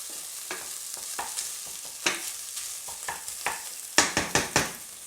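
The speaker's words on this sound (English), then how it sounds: "I want about a handful of peas in there. I think that'll do it, just to cook them off." Frozen peas fry with potatoes in a pan for venison samosas, a constant sizzle punctuated by a series of scraping stir strokes that grow louder and quicker toward the end, close up, with no voices.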